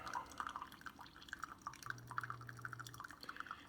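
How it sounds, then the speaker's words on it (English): A slow coffee stream from a Keurig K-Supreme Plus brewer on its bold setting splashes and drips into a cup, soft irregular patters close by under a faint low hum. "Anytime that stream is kind of slow, you tend to get a few more splashes around."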